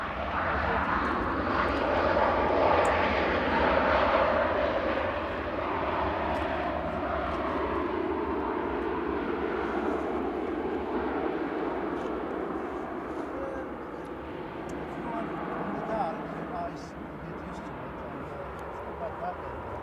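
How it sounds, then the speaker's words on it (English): A Jet2 airliner from Krakow arriving at Manchester Airport, a loud, steady jet engine roar that swells early and then slowly fades, sustained throughout, with a voice talking faintly underneath. "This one in is Jet 2 from Krakow, operated by ETF Airways."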